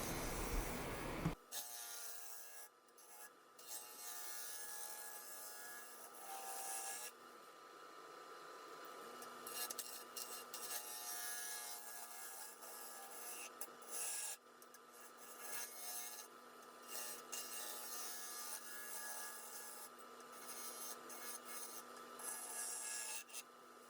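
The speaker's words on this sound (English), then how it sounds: "You can see how smooth the Carter and Son bowl gouge just cuts that stuff off like butter." A Carter and Son bowl gouge cutting wood on a lathe gives a steady, close rasping shave in long continuous passes over a constant motor hum, with brief pauses between cuts.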